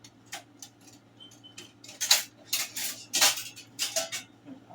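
Metal spoon clinking against a pot of homemade chili, a series of sharp, irregular clanks and scrapes up close in a quiet kitchen with a low hum behind.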